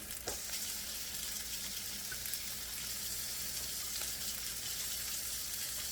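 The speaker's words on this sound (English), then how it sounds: "I'm going to wash my hands." Running tap water for hand washing makes a steady, even rush close by, broken by a few faint splashes, with no voices.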